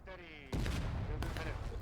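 Sudden loud burst of massed gunfire in a War of Rights game battle, with Union troops firing on Confederate artillery, a heavy volley cracking in after a brief lead-in and a second volley following about a second later.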